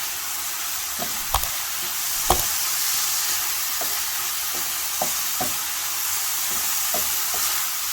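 Chicken and spices frying in a pan give a steady broad sizzle, punctuated by a few sharp scrapes and knocks as they are stirred, with no talking.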